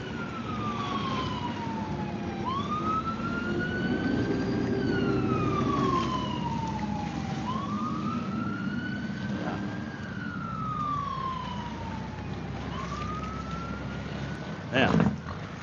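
A fire truck siren wails near a lakeshore, slow rising and falling sweeps repeating about every five seconds under a low engine rumble, with a brief loud burst near the end.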